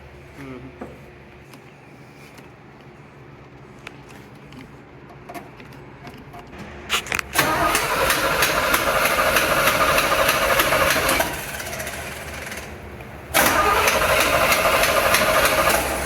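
A 1975 Chevrolet C10 pickup engine idles quietly with faint knocking, then catches and runs loud and rough, dipping briefly before surging again.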